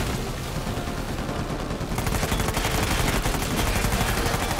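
Sustained rapid automatic fire from a mounted gun in Uncharted 4, a dense continuous rattle of shots that swells louder and heavier partway through, close and loud with no talk.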